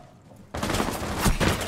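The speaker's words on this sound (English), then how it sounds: "Ooh, big shots on Nate." Gunfire in the video game Rainbow Six Siege bursts in abruptly after a quiet moment, a loud, dense volley of rapid shots that continues to the end.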